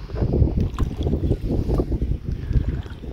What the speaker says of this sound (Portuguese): Agora o vento tá mais forte.